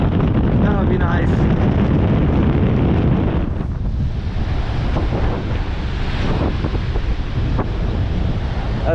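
Ocean waves wash onto a beach on a nasty, blustery day, with heavy wind buffeting the microphone into a loud constant roar and surf surging and breaking in rushes over it.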